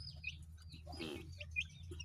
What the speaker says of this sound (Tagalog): Napakarami natin sisiw.